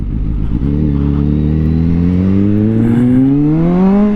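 A 2023 Kawasaki ZH2 supercharged motorcycle pulls hard, its engine note climbing steadily in pitch through one long loud acceleration, close up with wind noise behind.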